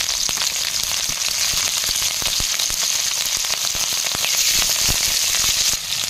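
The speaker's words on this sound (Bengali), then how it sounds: "কাঁচা লঙ্কা রসুন ভাজা হয়ে গেছে" Green chillies, garlic and black cumin seeds fry in oil in a pan, making a loud, dense sizzle full of rapid crackles and pops that runs without a break.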